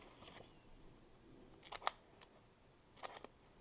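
Scissors snipping small pieces of paper for a handmade moose card, a few quiet crisp cuts spaced apart with a sharp snip near the middle, in a hushed crafting setting without talk.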